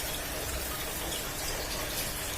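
Water from a spout pours steadily into an aquarium holding arowana and peacock bass, a constant soft hiss and splash with no break, faint and alone without voices.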